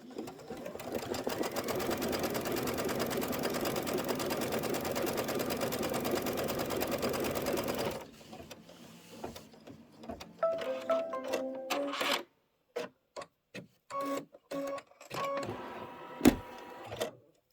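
An embroidery machine stitches clouds in cream thread on a quilt row with a long, steady, fast mechanical chatter, then stops and gives way to scattered clicks and short bursts of movement.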